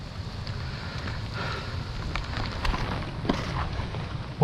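Steady roaring storm wind, without rain or thunder, buffets the microphone, with low rumbling gusts rising and falling and no other distinct sounds.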